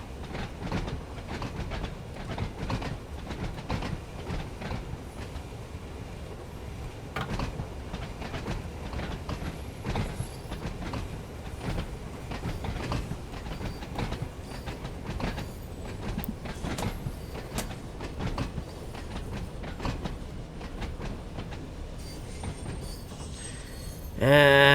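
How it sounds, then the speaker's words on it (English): Train rolling along rails on the Isle of Wight line in Train Sim World 5 at night, a continuous rumbling clatter with rhythmic wheel clicks, steady and close, ending in a brief louder burst. "Just letting the train ride."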